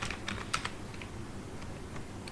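Quick, light keystrokes on a computer keyboard while C code is typed, a short irregular run of clicks at close range, fairly quiet with no talk.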